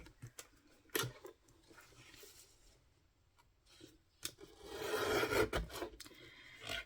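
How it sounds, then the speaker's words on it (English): A paper trimmer cutting collage paper, with a few sharp clicks and taps and then a louder, longer rasping slice near the end, close by and without speech. "Just trim it off using my trimmer."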